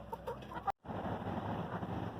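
Healthy chickens on a homestead cluck and murmur steadily at close range, with a brief silent break partway through before the soft fowl chatter resumes.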